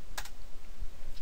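A few quick computer keyboard keystrokes tap out a web address in a quiet room, soft and close, with a short cluster of clicks near the start and a faint one at the end.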